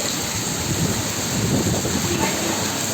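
Hail and rain falling in a windy storm make a steady, dense outdoor roar with gusty wind noise on the microphone, continuous throughout without a break.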